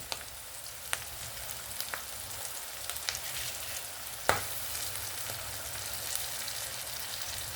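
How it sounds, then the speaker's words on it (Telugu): Ginger garlic paste frying in a pan for a cauliflower, drumstick and tomato curry, giving a steady soft sizzle with scattered small pops and crackles and one sharper clink midway, close by with no talking. "ఈ అల్లం వెల్లుల్లి ముద్ద కూడా వేసేద్దామండి."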